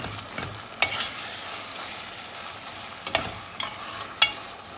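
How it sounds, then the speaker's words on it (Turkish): Tomato paste and peeled tomato sautéing in a pan for an okra stew: steady close sizzling with a few sharp scraping stirs of a utensil, no talking. "Şöyle bir 2-3 dakikada bu şekilde kavurduktan sonra"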